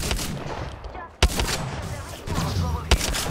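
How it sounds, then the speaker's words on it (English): Enemy gunfire in Apex Legends, rapid volleys of shots with two sharp loud cracks standing out over a busy battle din. "The enemies are shooting."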